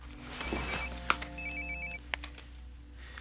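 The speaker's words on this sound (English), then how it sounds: "His phone rings." A telephone rings in a quiet interior, two short bursts of the ringtone with a brief pause between them, clear and near, with no talk over it.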